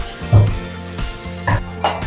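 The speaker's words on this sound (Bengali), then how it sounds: "নারকেলটা ভাজা হয়ে গেছে এবারে তার মধ্যে আমি এক মুঠো ভিজিয়ে রাখা ছোলা দিয়ে দিচ্ছি" Soaked chickpeas sizzle in hot oil with fried coconut pieces in a pan, a steady close frying hiss broken by a few scraping stirs of a spatula.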